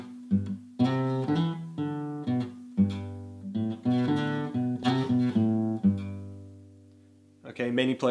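Acoustic guitar plays the intro to a song, with single-note melody lines over bass notes, phrased in separate strums and picked runs that sustain and fade near the end before a final fresh attack.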